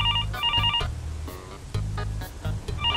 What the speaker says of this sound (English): I think you have a call.